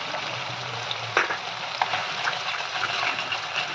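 Spice masala with tomato, turmeric and salt sizzles steadily in a pan, a dense close frying crackle broken by a few scraping stirs.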